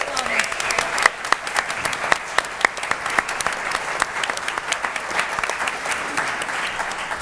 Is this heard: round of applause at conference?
yes